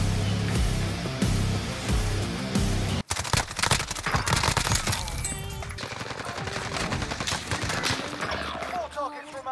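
Rapid bursts of MW MP5 submachine gun fire in a first-person shooter game (Rebirth) rattle loudly and continuously, layered with game sound effects and a player talking over them.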